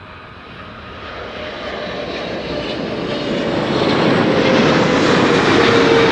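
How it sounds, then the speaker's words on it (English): KLM Boeing 777-300 arriving at Amsterdam Schiphol, a broad steady jet roar that swells gradually louder as the airliner approaches, with no voices over it. "this is KLM flight 758 arriving from Panama City. 777-300"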